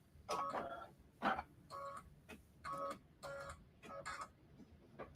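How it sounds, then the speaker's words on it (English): An embroidery machine stitches a quilt pinwheel in bursts, each run a quiet, rapid mechanical chatter separated by short pauses, heard alone at low volume. "it's going to stitch all of pinwheel number 1 first"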